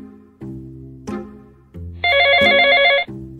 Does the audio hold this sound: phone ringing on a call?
yes